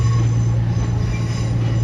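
A British Rail Class 350 train passing close by, with a loud, sustained low rumble, a steady tonal whine and a high metallic wheel squeal running throughout, and no voices.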